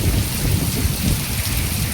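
Heavy monsoon rain pours steadily over a village near Kutiyana, a dense, close, unbroken hiss with no voices.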